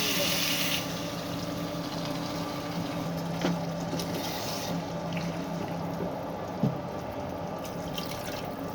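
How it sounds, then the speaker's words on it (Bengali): Water is poured into a frying curry, producing a continuous close splashing, gurgling pour over a background hiss, with a couple of small knocks near the end. "এখন পানি দিয়ে দেবো"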